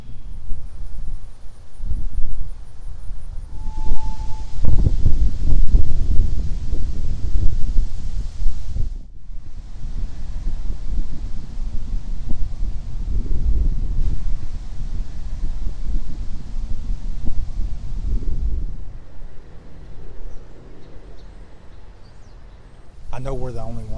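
Gusty wind blows across the grounds of old, empty college buildings, a steady loud rushing that buffets the microphone and rises and falls in long surges, briefly dropping away before picking up again.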